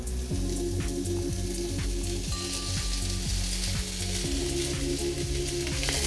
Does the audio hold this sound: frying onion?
yes